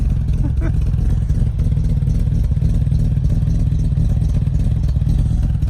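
An S5 Killer Bee engine runs at idle on its first break-in startup, a steady low-pitched rumble with light mechanical clatter, close and continuous throughout.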